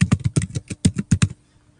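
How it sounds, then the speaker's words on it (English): Fingers type on a Chromebook keyboard in a quick burst of about a dozen crisp, close key clicks, which then stop into near silence. "Then start typing your content."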